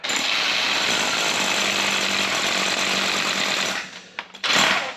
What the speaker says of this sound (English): That's all you need is a hammer drill.